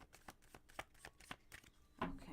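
Tarot cards are shuffled after a reading: a quiet run of crisp, papery riffles and taps in an irregular rhythm, close by, ending with a sharper, louder burst of card flutter.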